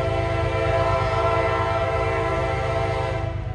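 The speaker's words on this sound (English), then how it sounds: "Next train we catch in this one is M693, an eastbound manifest freight from Russell," An eastbound manifest freight train on the Big Sandy line rolls past with a loud, steady low rumble and a sustained horn blast layered on top throughout, close by and alone with no talk.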